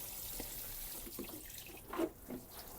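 Water poured onto tomato plants in a tropical garden: a soft, fairly quiet trickle with a few brief splashes and drips, growing briefly louder near the end, with no talking.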